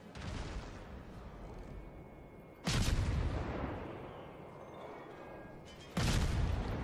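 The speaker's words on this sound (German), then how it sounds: "er schießt auf die Cleveland" Warship main-battery guns firing in the naval combat game World of Warships, two heavy booming salvos a few seconds apart, each with a loud sharp onset and a long rumbling decay over ongoing battle ambience.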